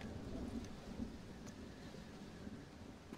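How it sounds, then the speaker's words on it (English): Thunderstorm in the game Red Dead Redemption: Undead Nightmare, with a steady wash of rain and low rolling thunder rumbling throughout, fairly loud and continuous, with no talking. "Well, it's just the storm, John."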